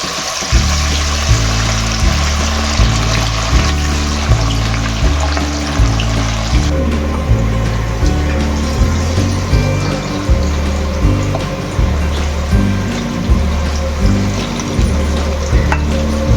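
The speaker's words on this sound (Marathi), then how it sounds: "आता आपण मच्छी फ्राय करून घेऊया." Mandeli fish fry in hot oil with a loud, continuous sizzle, while a rhythmic thumping beat, likely background music, repeats steadily throughout.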